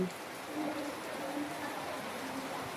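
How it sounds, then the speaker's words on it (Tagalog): Steady rain falls in a continuous soft hiss, an even wash of drops with no breaks, moderately faint. "Lakas ang ulan."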